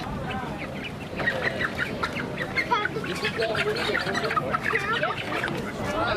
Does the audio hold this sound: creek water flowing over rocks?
no